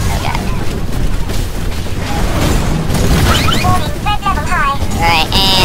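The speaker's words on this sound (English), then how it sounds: "it explodes. There's like a nuclear explosion." Titan exploding in the video game Titanfall, a loud booming blast with rumbling debris and mechanical clatter, followed by warbling electronic tones, under talk.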